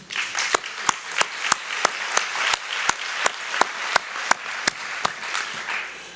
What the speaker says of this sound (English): Let's applaud them again, please.